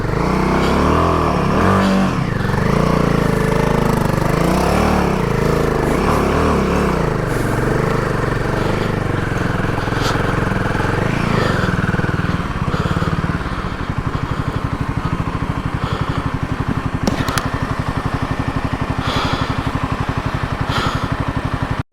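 A motorcycle on a muddy uphill mountain track revs hard again and again, loud and close. The engine surges and strains, then settles into a rapid, choppy idle-like putter toward the end.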